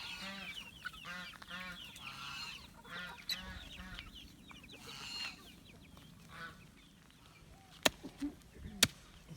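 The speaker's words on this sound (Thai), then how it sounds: "ตอนนี้ปล่อยลูกไก่ออกมาหาอะไรกินก่อนนะครับ" Chickens cluck and geese honk around young chicks let out to forage on a durian farm, a steady mix of clucking and chattering calls with a few sharp knocks near the end.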